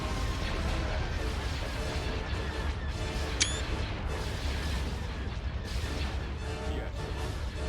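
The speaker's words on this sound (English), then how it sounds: "Look at all the explosions." A space battle in a Star Wars strategy game near a capital shipyard rumbles with continuous distant explosions and sharp crackling impacts, one bright zap standing out midway, moderately quiet and steady.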